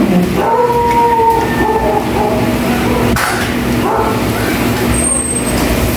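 A dog howls in long, wavering tones that rise and fall over the first couple of seconds, then quieter yelps trail off against a steady background hum, fairly close and loud.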